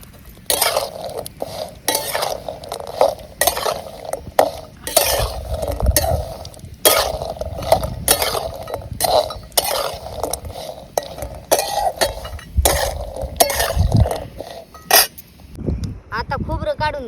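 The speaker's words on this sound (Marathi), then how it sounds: "मस्तपैकी आपला खोबरा बी तळायचं चाललंय मित्रांनो तेलात" Grated coconut is fried in oil and stirred over a wood-fired stove, with repeated metal spoon scrapes and clinks against the pan over a low sizzle, while a person talks throughout.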